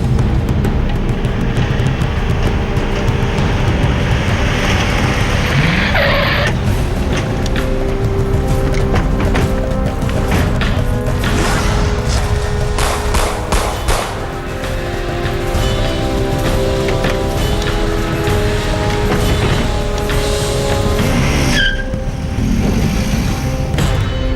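Car chase in Lucknow: engines roar loudly and continuously under dramatic, dense traffic noise with bursts and rushes, a brief tire-like squeal near the end, no talk.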